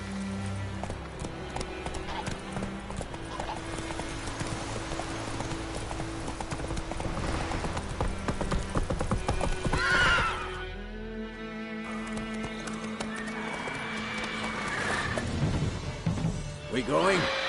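Roach, the horse in The Witcher 3, gallops with rapid rhythmic hoofbeats close by, under game music and character voices, with a brief break and a neigh partway through.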